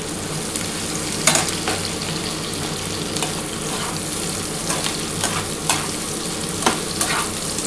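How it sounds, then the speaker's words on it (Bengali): Onions frying in a pan with a little sugar, a continuous even sizzle with a few brief stirring scrapes, no voices. "পেঁয়াজটা একটু ভাজা হয়ে গেলে, একটু হালকা ব্রাউন হয়ে গেলে"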